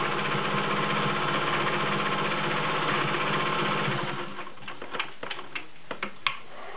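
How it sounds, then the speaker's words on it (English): A Singer 500A Slant-O-Matic Rocketeer sewing machine stitching a cam arrowhead pattern hums in a steady, close, rapid mechanical whir for about four seconds, then stops and gives way to a few sharp clicks and taps. "You're going to sew your cam pattern."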